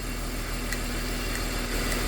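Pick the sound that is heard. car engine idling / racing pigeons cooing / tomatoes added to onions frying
car engine idling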